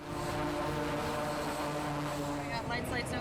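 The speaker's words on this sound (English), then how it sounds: "signals the pilot to increase the aircraft's throttle to full power after checking the aircraft's exact placement and deck clearance" Jet aircraft engine run up to full throttle on a US aircraft carrier deck, a loud continuous roar with a steady droning tone, near and unbroken, shifting slightly toward the end.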